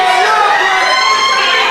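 A wrestling crowd at a live show roars in disbelief, a loud, dense wash of shouting and cheering that stays steady and close for the whole moment.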